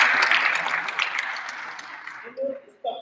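An audience at a law week event applauds, the clapping fading over a couple of seconds as a voice begins speaking.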